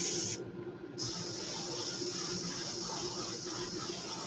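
Hot orange paint hisses steadily from a sprayer onto a Brad's Super Bait Cut Plug fishing lure, close and continuous except for a brief dip near the start.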